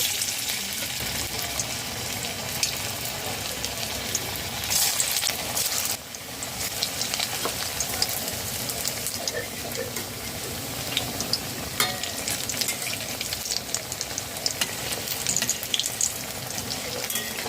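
Drumstick flower fritters frying in hot white oil in a wok, giving a dense, steady sizzle and crackle that runs loud and close for the whole stretch with no talking.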